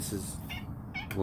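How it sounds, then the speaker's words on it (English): A cat meows a couple of times close by, short and plaintive, against faint background noise. "you heard that. That's my cat communicating with me."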